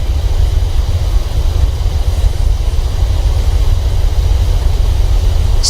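Boeing 737-800 BBJ2 engines in reverse thrust on a simulated landing roll at Recife roar as a loud, steady, low rumble with constant broadband noise, unbroken for several seconds.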